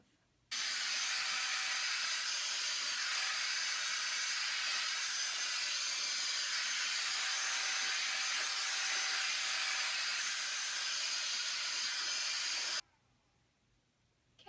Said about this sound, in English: I feel like having the smaller dryer actually helps you direct the air